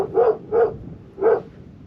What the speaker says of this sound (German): Also nur so untereinander knurren die sich ganz schön an.